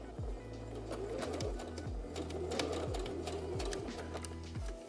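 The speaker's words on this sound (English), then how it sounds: "For a basting stitch, you want to be sure that you have the longest stitch setting on your machine." A sewing machine running a long basting stitch at its longest stitch setting, with a steady low mechanical hum and a regular, fairly slow cycle of thumping needle strokes, faint and alone.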